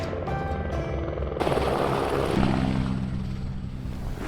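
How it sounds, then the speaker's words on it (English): A helicopter flies over the remote backcountry of Alaska, its steady rotor thrum and engine whine loud and continuous, close by, with no talk. "The best part about flying in a helicopter is in a matter of moments you can get somewhere almost like a magic carpet ride"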